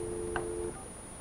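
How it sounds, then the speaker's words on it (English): A 6930 office telephone gives a steady ringback tone while a call is being transferred. It holds as a sustained tone for about 0.7 s with a brief blip partway through, then drops away to quiet line hiss. "so their phone's ringing"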